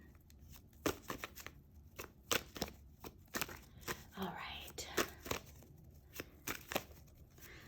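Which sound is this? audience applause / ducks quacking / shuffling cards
shuffling cards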